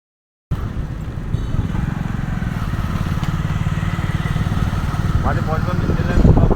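A motorcycle engine idles close by with a steady, even low chugging throb that holds throughout, and a voice is heard over it.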